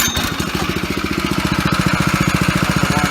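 A small engine on a lawn spreader catches after a pull start and settles into a steady, rapid idle, its close, even firing pulses running alone without talk.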